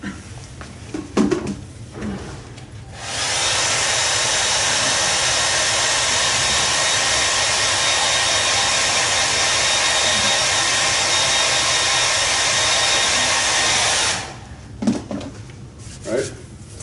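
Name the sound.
hair dryer blowing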